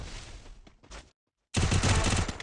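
Gunfire from the video game Free Fire during a headshot exchange: rapid bursts of shots and impacts, then about half a second of silence before a dense, loud, continuous volley of automatic fire.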